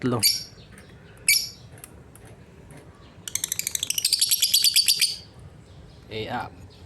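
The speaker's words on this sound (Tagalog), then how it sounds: "Kaya hanggang dito na lang ang aking pagbablog sa pagpapakain ng aking mga alagang ibon." Pet birds at feeding time give short bursts of high chirps, then a fast rattling run of rapid calls midway and another brief call near the end, close by, with faint low background murmur.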